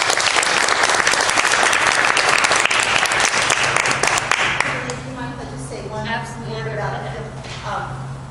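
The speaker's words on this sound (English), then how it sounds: "give a big round of applause for our speakers tonight" An audience claps loudly and steadily for several seconds for the evening's speakers, then the applause fades out as a voice begins talking.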